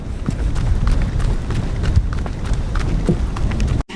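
Steady rain falling during a thunderstorm, a dense continuous hiss with scattered drop impacts that cuts out abruptly near the end.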